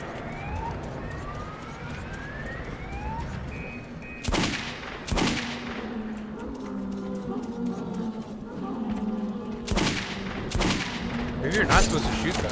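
Gunfire while shooting enemies in the video game Metro 2033, several sharp loud bangs spaced a few seconds apart among rising and falling tonal game sounds and a busy background.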